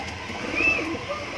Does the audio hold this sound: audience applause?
no